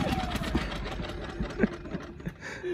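A Predator 2000 portable generator engine is started and runs with a steady, fairly quiet mechanical chatter and rattle, with brief louder knocks. People talk faintly in the background.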